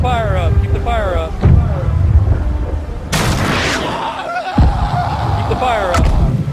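A mortar fires in the WW1 game Verdun, a sharp loud blast standing out amid a busy battlefield of other bangs, with voices shouting in the background.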